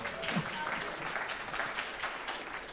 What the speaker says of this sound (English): big round of applause for Asta as well